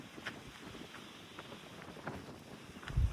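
Steady wind rushing and buffeting outdoors at night, a continuous broadband roar with a few louder gusts and a low rumble near the end.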